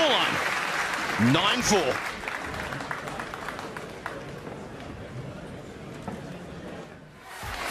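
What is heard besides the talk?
ovation from capacity crowd at snooker final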